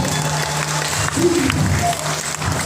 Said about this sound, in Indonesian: tepuk tangan dulu buat aku